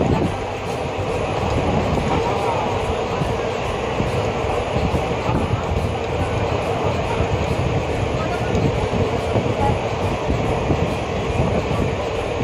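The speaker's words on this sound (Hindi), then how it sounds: "सुबह की ट्रेन है, सुबह की ट्रेनें थोड़ी स्लो रहती हैं" Steady rumble and rattle inside a moving morning passenger train in India, a continuous loud wash of wheel and carriage noise with no break throughout.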